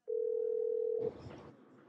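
Telephone dial tone heard when placing a call: a steady single-pitch hum holding for about a second, then cut off by a burst of rustling handling noise as the receiver moves.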